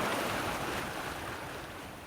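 Three-foot sea waves wash and slosh around a sailboat under sail, a dense continuous rush with wind noise that slowly eases in loudness, with no one speaking.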